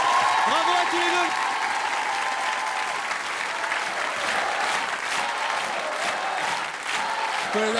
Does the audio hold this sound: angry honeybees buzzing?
no